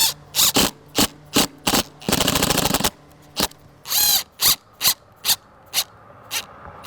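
Screws driven into exterior PVC window trim with a power drill: short bursts of whirring alternate with one longer run, repeated in quick, evenly spaced pulses, close and loud with no talking.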